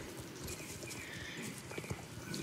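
Horse hooves clip-clop in the Star Stable Online video game, a steady run of soft, even footfalls with a faint background bed beneath them.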